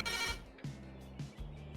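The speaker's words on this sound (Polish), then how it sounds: "czekaj, to telefon." A short electronic phone ring repeats three times in quick bursts, fairly loud and close, with no talking over it.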